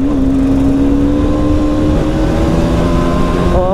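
A motorbike engine accelerates at speed, a loud, continuous drone whose pitch climbs gradually, then lifts again sharply near the end. It runs close and unbroken with no voices.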